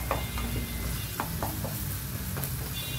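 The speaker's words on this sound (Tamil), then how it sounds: "அது நல்லா எண்ணெய் பிரிஞ்சு வர மாதிரி கிளறி விடுங்க" Fish curry masala with chilli being stirred and fried in oil until the oil separates, a steady moderate sizzle with a few light spatula scrapes.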